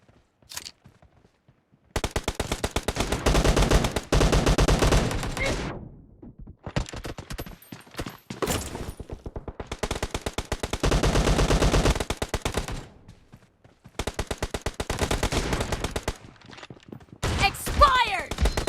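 Shotgun fire in the battle royale game BGMI comes in dense bursts of rapid, loud shots separated by short quiet gaps. Brief game voice lines sound between volleys.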